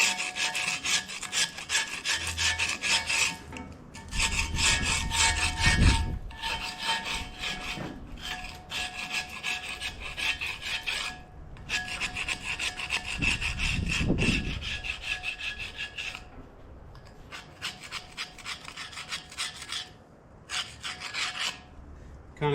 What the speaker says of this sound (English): Usually on this thicker stuff here, I'll use a wood chisel.